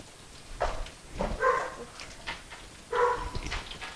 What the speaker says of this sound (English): That's my dog Rosie, if you guys heard her